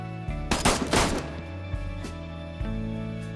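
A rifle firing-squad volley in the video game DayZ: several gunshots go off almost together in a loud cluster, followed by a few fainter single cracks and thuds against a steady low background hum.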